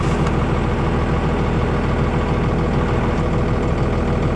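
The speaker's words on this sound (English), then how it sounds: "the old dually just fired her up" An old dually pickup truck engine idles loud and close, a steady low rumbling drone with no pauses and no talk.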